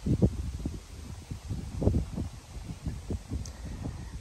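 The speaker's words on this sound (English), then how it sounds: "I know it's very windy and it's probably hard to hear a lot of what I'm saying." Strong wind buffets the microphone in rough, low gusts that rumble steadily for several seconds with no speech.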